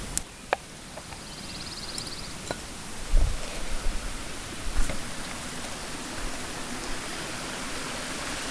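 A spring mountain stream flows as a steady broadband rush of water, constant and fairly close, with a few sharp clicks and low thumps from nearby handling and no talking.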